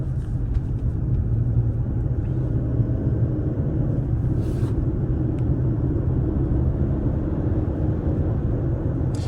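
A car pulls away from a green light on real roads under a hands-free driving system, a loud, steady low rumble of engine and tyre noise from inside the cabin with no talking.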